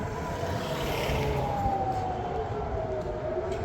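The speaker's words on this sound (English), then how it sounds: "it's like it's a siren." An alarm siren in Jerusalem wails, rising and falling in the distance, its long tone sliding steadily over low background rumble.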